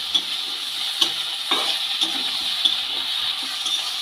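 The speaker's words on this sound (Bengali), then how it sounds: "সব রকমের মশলা দিয়ে সবজিগুলোকে খুব ভালো করে ভেজে নেব যাতে মশলার কাঁচা গন্ধটা চলে যায়" Okra, potato and mixed vegetables fry with spices in a pan, giving a steady bright sizzle broken by occasional scraping stir strokes and light clinks, close by with no voices.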